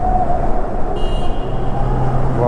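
Traffic inside a long road tunnel on the Jammu to Srinagar route makes a loud, continuous roar that reverberates off the walls, with engines droning together and no voices.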